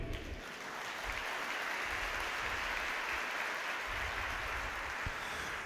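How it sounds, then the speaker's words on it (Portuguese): A church congregation claps together during a worship service, a dense, sustained wash of applause that holds steady and fairly loud throughout with no voices over it. "Dá um aplauso a Ele."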